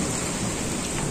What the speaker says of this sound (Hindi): आवाज़ सुनिए, बिजली की आवाज़ आ रही होगी आप लोगों को